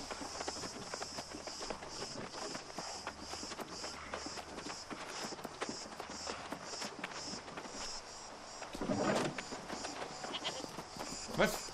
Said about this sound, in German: Das ist ein Schaf.